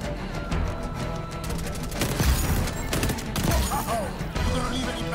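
Rapid bursts of M16 rifle fire in the shooter game XDefiant, loud and close, firing in repeated clusters with dense battle noise throughout and a voice talking briefly over it.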